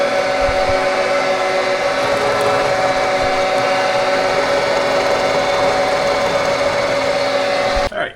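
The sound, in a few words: end mill slotting steel plate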